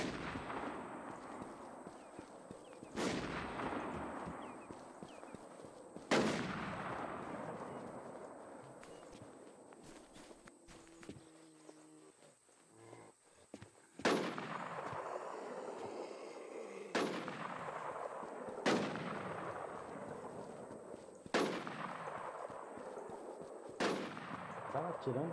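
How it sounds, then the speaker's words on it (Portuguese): Gunfire in the survival shooter Infestation The New Z rings out in a player-versus-player fight, sharp single shots spaced a few seconds apart with ringing decay, fairly distant, over quiet ambience. "Tava atirando em alguém ali perto do TP."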